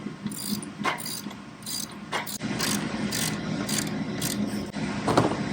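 Bolts being tightened with a ratcheting tool while assembling a Tilther Pro garden tiller, giving a steady close run of quick mechanical clicks and rasps with a few louder bursts, no talking.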